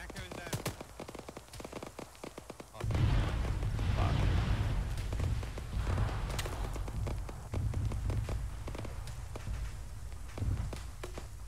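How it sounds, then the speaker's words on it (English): Gunfire in Arma 3: rapid sharp shots crack in bursts, then heavier rumbling blasts and scattered shooting continue beneath a muffled voice. "Who's shooting?"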